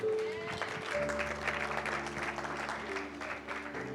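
A church congregation claps and cheers together in a dense, sustained burst of applause that fills the room, with an instrumental tone underneath.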